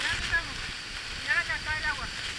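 Salto del Agrio waterfall roars steadily from close behind the falling curtain of water, a constant rushing wash under a speaking voice.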